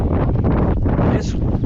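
Strong wind at Fort Peck buffets the microphone in a loud, continuous broadband roar with rumbling gusts throughout, no voices heard.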